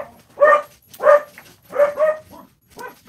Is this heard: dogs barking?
yes